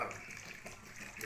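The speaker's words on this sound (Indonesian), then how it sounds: "baru tuangkan air bersih ya, 1 liter" One liter of clean water pours into a homemade oxy-style laundry detergent mix, a steady, close, broadband splashing gush that runs throughout without talk.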